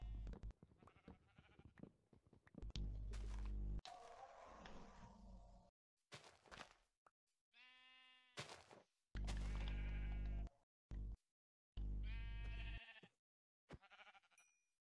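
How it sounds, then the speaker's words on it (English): Sheep in the video game Minecraft bleat again and again, loud, close, wavering calls in bursts separated by short silences, with some game noise between them and no talk. "One sheep dead?"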